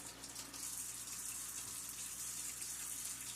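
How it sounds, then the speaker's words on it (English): Hot water runs from a tap into a kitchen sink while dishes are being washed, a steady, close rushing stream that holds constant throughout. "So I'm going to put hot water in this side because I'm going to rinse here"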